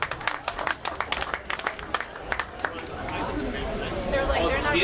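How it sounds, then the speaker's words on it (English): An audience at a political millennials forum claps for a panel: a burst of scattered individual claps that thickens into steady applause blended with crowd chatter and talk. "Clap for them."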